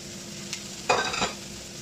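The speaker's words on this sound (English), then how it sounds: "I'm just going to put the white onions in there. Okay, I'm just going to sweat these off" White onions sweat in hot oil in a pan for a chicken saag curry, a low, steady sizzle that swells briefly into a louder burst as they are stirred.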